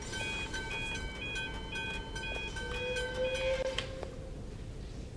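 Train-like factory machinery in the Poppy Playtime horror game rumbles low and steady while high whistling tones and clanking pulses repeat in a loose rhythm over it, fairly faint throughout.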